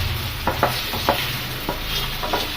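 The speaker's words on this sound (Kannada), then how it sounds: "ಈ ರೀತಿ ಬಿಸಿ ಮಾಡಿದ ಎಣ್ಣೆಗೆ ಪೊಟ್ಯಾಟೊ ಸ್ಲೈಸ್ ಹಾಕಿ" Potato slices fry in hot oil with a steady, close sizzle, while a utensil stirs and scrapes through the pan in a few short, separate strokes.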